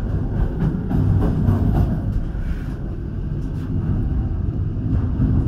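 Passenger train, the economy-class KA Dharmawangsa, pulling into track 4 at Cirebon Perujakan station in Indonesia: a steady, loud low rumble of wheels and carriages rolling on rails, continuous throughout with no talking.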